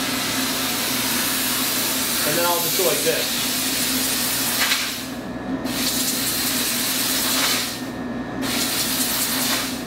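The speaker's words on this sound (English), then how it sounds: "is I'll kick on the steam," A steam cleaner sprays steam as a steady, loud hiss that runs through the clip and cuts off briefly twice, while someone talks over it.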